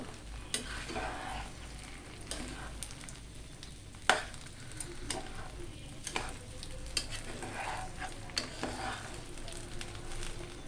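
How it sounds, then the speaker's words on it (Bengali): Beef and potatoes fry in a pot for biryani, a continuous sizzle under repeated scraping stirs and sharp clanks of a spoon against the metal, all close by. "মাংসটা দিয়ে দিলাম, মাংসটা দিয়ে লাড়াচাড়া দিব, সাথে আলুটাও দিয়ে দিব।"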